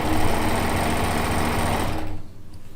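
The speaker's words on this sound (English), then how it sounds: "I will do that on my sewing machine" A sewing machine stitches quilt fabric pieces in a fast, continuous whirring hum close by, then stops abruptly near the end, leaving quiet room tone.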